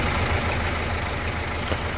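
A tractor engine in the Farming Simulator 25 video game runs at a steady, low, rumbling idle, close and continuous for a couple of seconds, with no voices over it.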